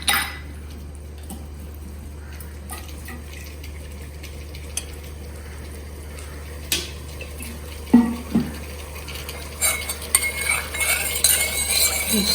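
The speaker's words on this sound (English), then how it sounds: "give it a good stir." A potato dish stirred in a pan for a Bengali aloo posto recipe, with soft scraping and scattered utensil clinks against the pan, quiet through most of the stretch and growing busier and louder toward the end.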